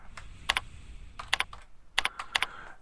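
Keys clatter on a computer keyboard as someone types an SQL select query against an invoices table, producing close, crisp clicks in short irregular bursts of two or three strokes with brief pauses between, no voices present.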